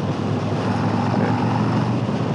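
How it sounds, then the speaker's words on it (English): A 2021 Harley-Davidson Road King Special with a 114 engine pulls hard in fifth gear, a loud, steady, unbroken drone with wind rush throughout and no talk over it. "That 114's got plenty of punch, plenty for what I need over here. That was a fifth gear pull."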